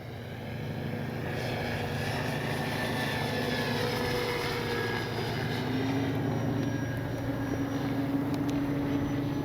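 An E-flite Carbon Z T-28 RC airplane in flight, its electric propeller motor giving a steady, continuous drone with slowly shifting pitch, moderately loud and heard alone without talk.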